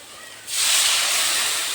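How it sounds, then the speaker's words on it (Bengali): Water poured into a hot pan of frying soybean and potatoes sets off a sudden loud, steady hiss and sizzle after a brief quiet moment, close up and with no voices. "এখন আমি জল দিয়ে দেব।"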